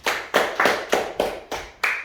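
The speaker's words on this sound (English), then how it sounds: "Give them a clap, boys." A group of boys at a youth football team workshop clap in a slow, fairly even rhythm, seven distinct claps close by with short reverberant tails.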